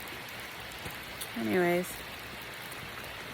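Rain falls outdoors, a steady soft hiss of drops that continues throughout while a person speaks briefly.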